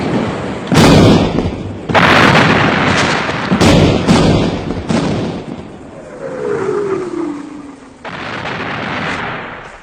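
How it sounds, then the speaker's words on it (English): Loud artillery fire in a Napoleonic-era war drama: several heavy booming blasts in quick succession, then a whistling shell falling in pitch and another blast, with no talk over the barrage. "Artillery! Covering fire!"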